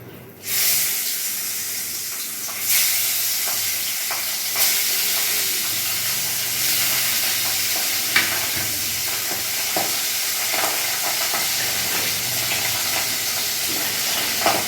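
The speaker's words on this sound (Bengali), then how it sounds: "আমার এখানে কড়াই গরম হয়ে গেছে। এবার আমি এখানে এক এক করে মাছ ছেড়ে দেবো।" Pabda fish fry in a hot wok with a constant loud sizzle and hiss, broken by occasional clicks and scrapes of a spatula against the pan.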